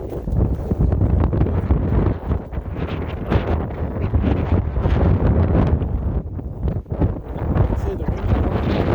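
Strong blizzard wind roars steadily against a microphone at the north end of a house, with constant low buffeting gusts filling the whole stretch.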